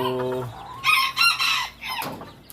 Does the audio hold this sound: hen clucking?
yes